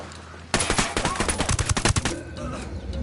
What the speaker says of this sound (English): Must have heard the gunshot.